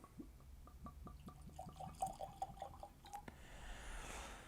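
Paul John Nirvana Indian whiskey is poured from a bottle into a glass, making a quiet run of glugs and liquid splashes that ends in a soft trickle and hiss, with no one talking.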